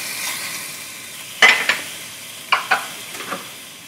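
Mutton with peppercorns sizzling and being stirred in a pot for a Pakistani stew, with a steady frying hiss broken by a few sharp clinks and scrapes of stirring, close and fairly loud.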